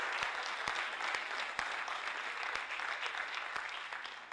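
Steady applause from a seated audience at an urban education leadership talk, as core team members stand; dense clapping holds evenly throughout with a few sharper individual claps punching through.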